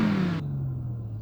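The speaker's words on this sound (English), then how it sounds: "all you have to do is just rev your engine" A 2018 Audi S4 engine revs briefly inside the cabin, a short rising-then-falling growl that cuts off sharply, leaving a low steady rumble.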